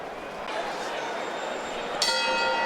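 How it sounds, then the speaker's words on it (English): A single bright boxing bell clang opens round one of a welterweight unification fight, ringing out over a noisy arena crowd, its metallic tone lingering after the strike. "The bell and round one of the 12th welterweight unification fight in history for Errol Spence."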